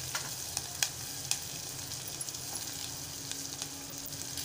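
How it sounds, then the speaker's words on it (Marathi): Finely chopped onion fries in oil with cumin, asafoetida, curry leaves and green chillies, making a soft sizzle with a few sharp stirring clicks and scrapes, close but quiet. "तर तेलामध्ये कांदा छान भाजला गेलेला आहे"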